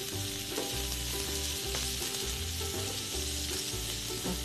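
Asparagus sizzles steadily in a hot pan, a dense, continuous frying hiss close up with no voices, lasting several seconds without a break.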